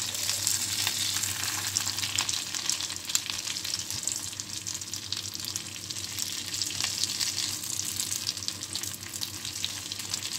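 Breaded curry fish fillets sizzle steadily in a frying pan, a dense continuous crackle of hot oil that holds at an even, close level throughout with faint scraping now and then.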